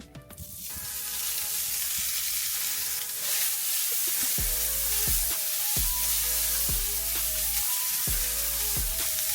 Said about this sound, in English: I got my avocado oil with a little bit of butter sizzling. Let's go ahead and drop them in.